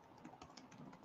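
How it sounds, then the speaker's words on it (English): Soft, faint keystrokes on a computer keyboard tap out a web address in a quick, uneven run of light clicks, with no voices. "Just typing it in here."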